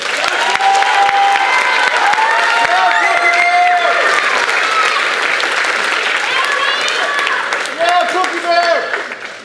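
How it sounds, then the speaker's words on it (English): Audience applause fills a school spring concert hall, loud dense clapping with some cheering and voices mixed in, sustained throughout before tapering slightly at the end. "Let's have one more round of applause."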